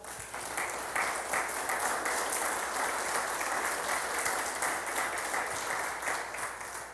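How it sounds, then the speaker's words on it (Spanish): A congregation at a church service gives sustained, even applause of praise, many hands clapping at a steady level with no break. "Dele un aplauso de alabanza."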